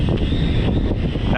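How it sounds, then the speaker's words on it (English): Wind buffets the microphone outdoors while an Ascend Aeronautics ASC-2450 HD video drone is flown in gusty conditions, producing a loud, close, continuous rumbling roar with no clear break. "I'm really fighting this wind"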